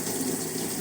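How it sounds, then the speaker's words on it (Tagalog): Water gushes steadily from a tap during plate washing, a close, constant rushing stream with no talk over it. "Oh, may tubig!"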